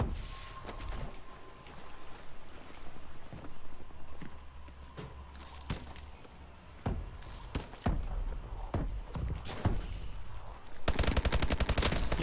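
SMG gunfire in Call of Duty Advanced Warfare, loud close bursts and single shots scattered through a busy game mix, ending in a rapid sustained stream of fire.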